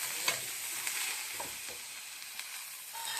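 Madhura cheera greens fry with mustard oil and curry leaves in a pan over a low flame, making a close, continuous hissing sizzle with a few soft stirring scrapes.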